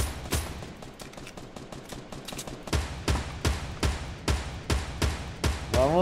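Gunfire in Fortnite Battle Royale rings out as a steady run of loud, evenly spaced shots, close and punchy, carrying on for several seconds with no talking over it.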